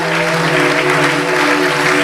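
A church congregation claps steadily and loudly throughout, dense continuous applause with sustained tones from instruments or voices running underneath.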